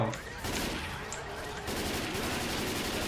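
Rapid automatic gunfire rattles in the zombie shooter video game Left 4 Dead 2, with bursts of overlapping shots that run continuously across the clip at moderate loudness.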